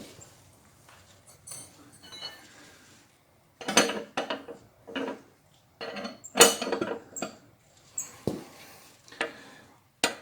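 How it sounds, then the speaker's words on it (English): Metallic clinks and taps of a 1-inch wrench fitting onto the axle bolt head of a Harley-Davidson Softail during drive belt adjustment, in irregular close bursts with pauses between them, with faint speech in places. "you put the 1-inch wrench on the head of the axle bolt on the other side."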